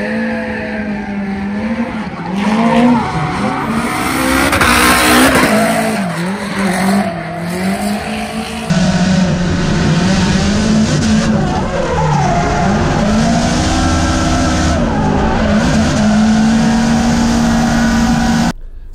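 A Nissan S14 drift car's engine howls continuously with shifting revs while tires squeal, loud and close throughout, with no talking.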